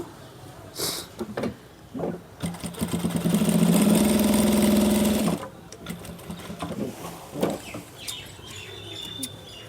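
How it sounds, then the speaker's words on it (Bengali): A tailor's sewing machine runs one steady burst of a few seconds, reinforcing a stitch on a trouser back pocket, with quieter handling and fabric sounds before and after. "তো আমি চাপ সেলাই দিয়ে দিব"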